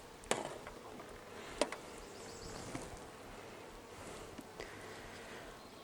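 Honeybees buzz softly and steadily inside a small nucleus hive, a faint continuous insect hum with a few sharp knocks and clicks from handling the frames.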